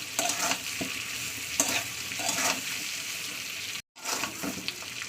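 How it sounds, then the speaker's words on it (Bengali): Boiled meat sautés in oil in a pan, making a steady sizzle broken by repeated scraping strokes of a spatula, with one brief silent gap near the end. "দু থেকে তিন মিনিট আমি মাংসটাকে তেলের মধ্যে একটু ভাজা ভাজা করে নেবো"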